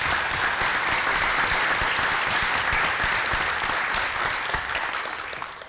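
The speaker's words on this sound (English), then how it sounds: "Can we get a round of applause for our hosts and our sponsors?" A large audience at a congressional candidate panel event at McHenry County College applauds its hosts and sponsors. The applause is steady and dense, with no talk, and fades slightly toward the end.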